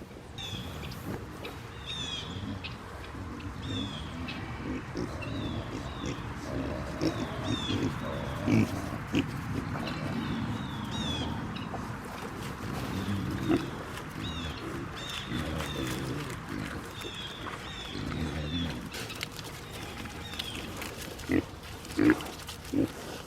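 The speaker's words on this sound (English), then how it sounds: "I'm gonna turn the camera so you can see the pigs come running." Kunekune pigs grunt and snuffle in a farm pen, a low, busy stream of grunts fairly close, with birds calling in the background.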